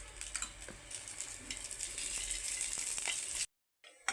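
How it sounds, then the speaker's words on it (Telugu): Dates sizzle and crackle as they fry in ghee for dry-fruit laddu, a steady hiss with small pops and stirring rattles that cuts off abruptly near the end. "చివరిగా మనము ఖర్జూరాన్ని కూడా వేయించేసుకుందామండి. నెయ్యి వేసి బాగా వేయించుకుందామండి"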